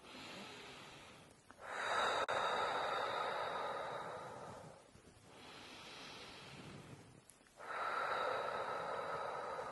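Slow, deep breaths drawn close to the microphone during a labour contraction, three long airy exhales and inhales in a steady rhythm with brief pauses between them and no talking.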